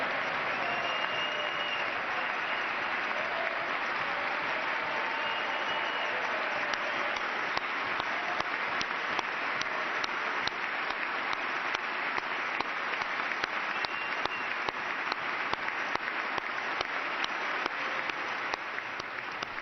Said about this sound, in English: the nearly 2-minute standing ovation and applause was in honor of Army Ranger Corey Remsburg